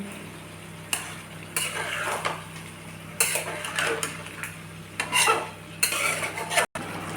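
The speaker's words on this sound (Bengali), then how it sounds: "এবার আমি টক দইটা দিয়ে দেব। যে কোনো রান্নাতেই টক দই দেওয়ার পরে রান্নাটাকে ভালো করে নাড়তে থাকবে।" Yogurt is stirred into a chicken curry cooking in a pot, with repeated scraping strokes of a spoon against the metal over a soft, steady sizzle, close and moderately loud.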